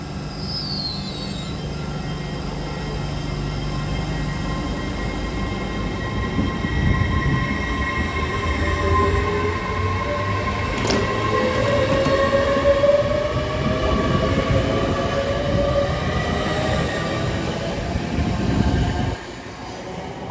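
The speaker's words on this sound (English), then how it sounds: "Trans-Pennine Express service off to Liverpool is 802202." TransPennine Express train 802202, bound for Liverpool, passes through Durham with a loud, steady rumble of wheels and carriages that holds for the whole span before easing off at the end.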